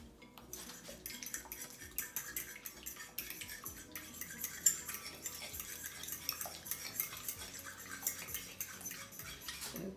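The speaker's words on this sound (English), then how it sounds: "pour all these eggs in here. All right. That's about a couple eggs. Let me go ahead and beat those up." A fork or whisk beats a couple of eggs in a bowl, making a rapid, steady clatter of metal tapping and swishing against the sides, close and continuous for about ten seconds with no talking.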